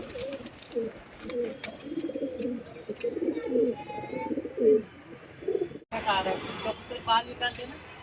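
Pigeons coo nearby in soft, repeated low murmuring calls, with a few chirps and someone talking at times over them.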